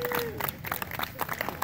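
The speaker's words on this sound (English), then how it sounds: "give Clyde a big round of applause" An audience breaks into clapping that mixes with crowd murmur, and a voice carries over it during a short, busy burst of applause.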